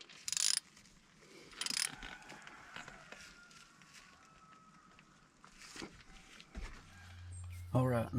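Ratchet tightening down on a 2024 CFMOTO Cforce 800xc during an oil change, close rapid clicking bursts of the pawl with mechanical rattling in between, and a voice briefly speaking.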